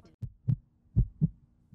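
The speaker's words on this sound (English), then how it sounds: "And his heartbeat." Heartbeat sound effect in a Roblox story, two low, close thumping double beats in slow rhythm, alone without talking.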